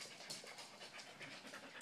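A dog pants close by in quick, rhythmic breathy bursts, faint but steady, with no talking.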